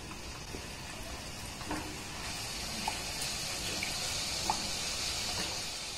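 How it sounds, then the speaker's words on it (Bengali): Sweets sizzle in medium-hot oil in a wok, a steady close bubbling hiss with occasional faint pops and clinks. "এবার এই মিষ্টিগুলোকে আমি এই তেলের মধ্যে ছেড়ে দেব।"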